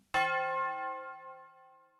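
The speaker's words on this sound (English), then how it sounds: "All right, one more ring." A single bell is struck once during a street New Year celebration in London, giving a loud metallic clang whose bright ringing tone slowly decays over two seconds, heard alone.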